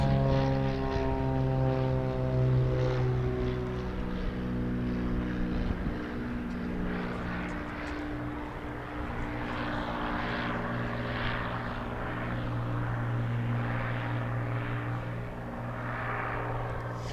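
A classic propeller airliner at Dallas Love Field drones loudly and steadily, its multiple engines giving a sustained throbbing hum with rising and falling harmonic tones as it lingers nearby.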